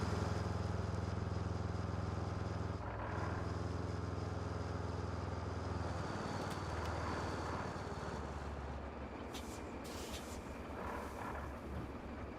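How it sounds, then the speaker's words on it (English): Truck in the RoadCraft video game, its engine laboring with a low, rough, steady drone that thins out midway and then continues unevenly, broken by a few brief sharp noises near the end. "This poor truck sounds like it's gonna die."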